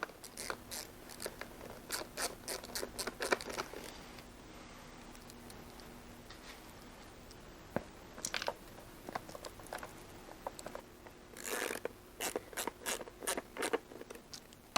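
Ratchet tightening screws on a Harley-Davidson Pan America during maintenance: faint, rapid clicking bursts in short runs, separated by quiet pauses and a few soft knocks.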